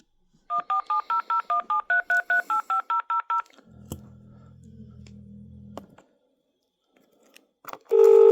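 Telephone keypad tones dialing a number-withheld code before a call to a housing service line, a rapid run of about fifteen clean, evenly spaced beeps, followed by a low ringing hum and a loud tone at the end.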